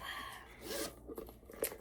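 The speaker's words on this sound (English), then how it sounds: "And again, let me zip them both up" Zippers on two Louis Vuitton pouches are pulled closed, a couple of quick close rasping zips with light handling rustle in a short burst.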